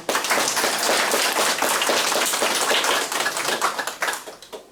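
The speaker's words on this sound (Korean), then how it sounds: "박수로 시작하겠습니다" An audience claps at the opening ceremony of the Jecheon Citizen Environmental Leader College, a dense, even patter of many hands that holds steady, then thins and fades near the end.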